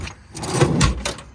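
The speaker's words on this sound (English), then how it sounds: "Nice set of grip and glide drawers in the back as well." Grip-and-glide drawers in the back of a 2009 International 4300 mechanics crane truck slide with a short metallic rolling rumble and a couple of clunks, close and fairly loud with no talking.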